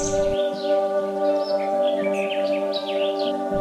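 Flamingos, wading birds, calling in a forest setting: repeated high honking and chattering calls, steady and moderately loud over a constant droning background with no talk.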